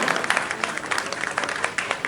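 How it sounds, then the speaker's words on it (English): Audience at an awards ceremony applauding an honorary doctorate recipient for social service, a short burst of scattered, lively hand clapping from a moderate crowd. "Can we have a big round of applause for Dr. Durga Balian"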